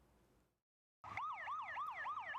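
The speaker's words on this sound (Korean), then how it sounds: "도심 속 사이렌 소리가 울려 퍼지고 장병들이 출동합니다." A wailing emergency siren starts up abruptly after a brief silence during an army counter-terror training drill in a mock city training ground, rising and falling in a fast, regular, loud cycle.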